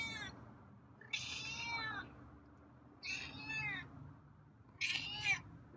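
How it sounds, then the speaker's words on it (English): Three raspy, drawn-out meows from a feral cat at regular intervals, close by, with quiet background hiss between them. "Got some raspy meows there."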